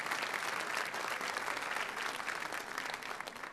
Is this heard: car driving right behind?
no